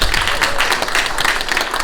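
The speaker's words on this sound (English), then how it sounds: "Round of applause for this man, please." An audience claps steadily in a room after a jersey sale at an interview event, a dense, even wash of applause close by with no gaps across the whole stretch.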